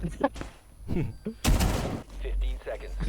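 Gunfire bursts through walls in Rainbow Six Siege, a sharp loud volley cutting in midway amid excited shouting from players, with short gaps and quieter game noise around it.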